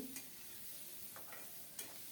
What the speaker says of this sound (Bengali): আবারও উল্টে পাল্টে সুন্দর করে ভেজে নেব